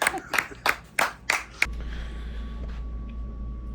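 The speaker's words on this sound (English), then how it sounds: "Let's get some claps here" A small group of guys at a hunting camp cabin claps for a friend, about six sharp, uneven claps over a second and a half before a steady low hum takes over.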